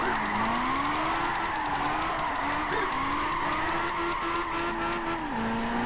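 A Shuichi Shigeno AE86 drifts in Gran Turismo 5, its engine holding a steady wavering drone while tires squeal continuously through the slide, loud and close with no talk over it.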